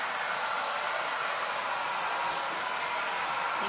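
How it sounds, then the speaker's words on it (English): A blow dryer runs steadily at close range, drying fresh paint on an old TV tray being upcycled; its broadband airy roar stays constant and loud for the whole stretch with no pauses. "I'm trying to talk over my blow dryer"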